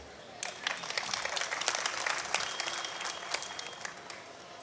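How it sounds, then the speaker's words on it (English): Lecture audience in an arts academy hall applauding, a steady wash of many hands clapping at moderate distance for several seconds. "I hope you'll applaud that idea."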